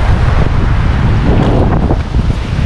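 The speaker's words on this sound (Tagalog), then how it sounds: "tapos malakas ang hangin no?" Strong sea wind buffets the microphone during a fishing trip, a loud continuous rumbling roar with gusts and a wash of waves beneath, no voices.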